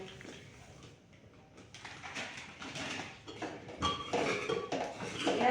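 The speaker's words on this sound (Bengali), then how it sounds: "আমি এই হাতার পেছনটা দিয়ে ভালো করে ম্যাশ করে নিচ্ছি" A metal ladle presses and scrapes cooked lentils against the pot, then rice flour goes in, giving soft clinks and scraping knocks that grow busier and louder toward the end, all close by.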